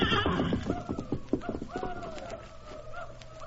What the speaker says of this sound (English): Get the horses out of the way.